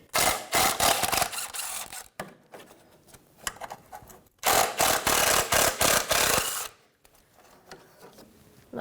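A ratchet on a 14mm socket loosens the cradle bolts on a 1992-1996 Toyota Camry during rack and pinion replacement, in two loud, close bursts of rapid clicking separated by short pauses.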